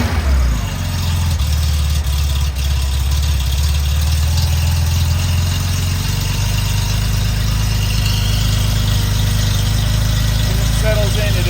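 A freshly rebuilt 1976 Porsche 911S engine catches and settles into a steady, throbbing idle, with a deep low rumble that stays loud and close for the whole stretch.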